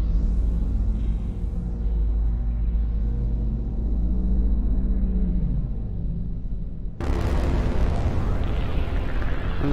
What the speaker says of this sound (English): Wow, flashbang.